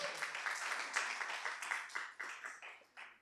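A conference audience claps for a panelist being introduced by the moderator at a Web3 consulting panel, a steady wash of applause that slowly thins and fades over a few seconds.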